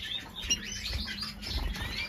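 Small birds chirping in quick, thin high calls, faint and scattered over a low background rumble.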